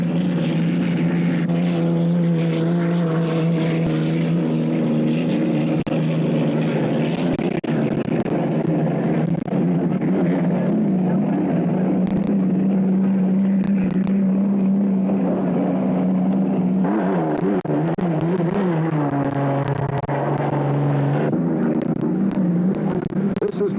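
A powerful unlimited hydroplane racing boat engine roars steadily down the main straightaway, loud and close, its deep throbbing drone shifting pitch slightly as it passes.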